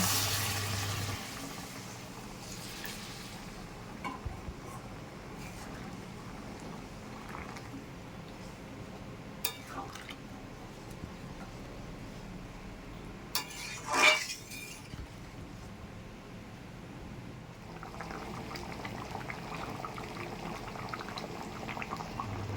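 Hot water is poured into a cooking pot of prawn and potato curry, producing a steady, low hissing bubble with a single clink of metal near the middle.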